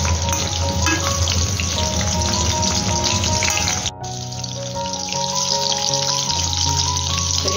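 Chicken lollipops fry in a pan over a medium gas flame, giving a steady, loud, close sizzle with dense crackle that dips briefly near the middle and then carries on.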